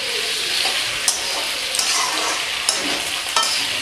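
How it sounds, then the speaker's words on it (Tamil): Capsicum and onion frying in oil for chilli chicken, a constant close sizzle with periodic scrapes and clinks as the pieces are stirred around the pan. "கேப்சிகம்லாம் ஆனியன்லாம் நல்ல எண்ணெயில் வதங்கிடுச்சு"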